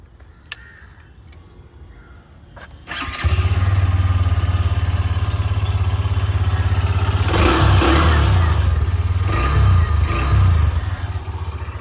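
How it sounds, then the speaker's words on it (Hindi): A Hero Xtreme 125R motorcycle engine starts after a short quiet stretch, then runs loud and close with a rattly idle, rising in a few revs toward the end. "यहाँ पे आपको एक्सट्रीम का साउंड जो है वो ज़्यादा लाउड सुनाई देगा"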